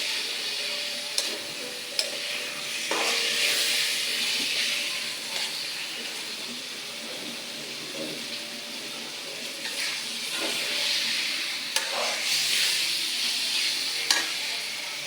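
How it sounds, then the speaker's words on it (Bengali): Water poured into a pan of brinjal and rohu fish curry, with steady frying sizzle and stirring scrapes close up, intermittent clinks of utensils, no voices. "আমি এতে পানি দিয়ে দেবো পানি দিয়ে পানিটা বলকাশি বেগুনটা দেবো"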